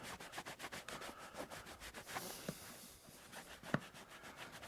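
A rag rubs leather cleaner into a pair of leather boots, making soft, rhythmic swishing strokes with a few light taps, close and quiet with no talking.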